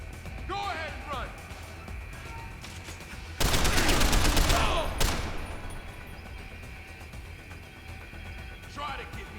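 Gunfire in the video game Deus Ex: Human Revolution, with a loud burst of shotgun blasts and rapid shots lasting a couple of seconds mid-clip, and quieter game ambience and chirpy effects before and after.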